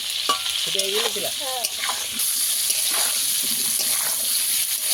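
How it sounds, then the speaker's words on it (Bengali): Food fries with turmeric powder in a pan, a steady sizzle with stirring scrapes, while a brief whistling tone rises and falls near the start. "হলুদ গুঁড়ো দিয়ে দেবো, দিয়ে ভালো করে ভেজে নেবো।"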